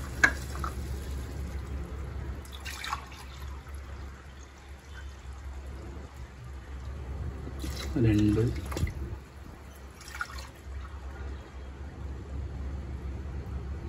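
Coconut milk and water are poured into a pot of prawn biryani, giving soft liquid trickling and dripping, stronger midway, while a person talks over it.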